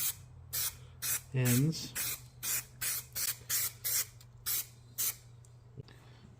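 An aerosol can sprays primer onto bolts in a string of short, evenly spaced hissing bursts, fairly quiet, over a low steady background hum, with a voice speaking briefly partway through.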